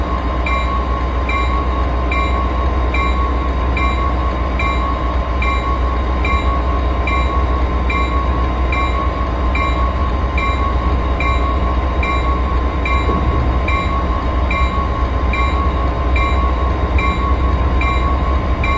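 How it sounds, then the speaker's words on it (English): MARC Penn Line commuter train running between Washington DC and Baltimore, a steady loud rumble of wheels on rails with constant high whine, heard continuously from inside the cab. "We'll be bypassing that in a commuter train."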